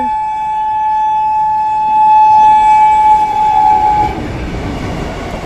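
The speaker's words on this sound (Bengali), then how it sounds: "দেখো ট্রেনটা পেরোচ্ছে" A train rumbles past a closed level crossing with a long steady horn blast sounding over the rolling noise, then the horn stops and the rumble continues.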